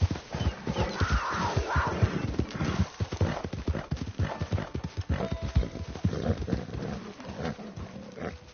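Hooves of a galloping horse in Red Dead Redemption 2 clatter in a fast, steady rhythm, close and loud, with an occasional whinny and snorting breaths mixed in.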